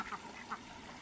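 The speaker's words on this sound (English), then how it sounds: "the ducks that we put at the pond came up here to visit" Pond ducks visiting a yard give a couple of faint, short quacks over a steady background hiss, distant and brief.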